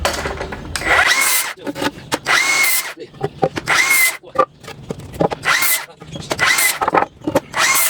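Power tool cutting a half-inch pocket into wood for an enclosure build, loud whining bursts of cutting repeated in rhythmic passes with short pauses and rubbing scrapes between them.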